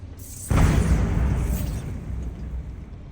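A Bombarda blast spell goes off in Hogwarts Legacy, a sudden loud boom followed by a long rumbling roar that slowly fades, with no voices over it.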